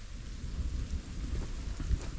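Thunderstorm with rain at an off-grid cabin site: continuous heavy rain and wind roar with a deep, rumbling low end, steady and enveloping with no speech.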